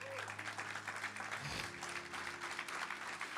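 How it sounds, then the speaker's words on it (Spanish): A church congregation applauds during a Spanish-language sermon, sustained clapping spread through the room, fairly quiet and continuous, with some crowd noise mixed in. "Dale un fuerte aplauso al Señor"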